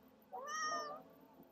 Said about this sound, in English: Can you guys hear her meowing?